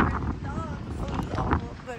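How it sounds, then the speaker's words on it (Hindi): Strong cold wind gusting in a mountain village street in Marpha, Mustang, Nepal, a loud steady rush buffeting the microphone while someone talks over it. "कितनी तेज हवा चल रही है"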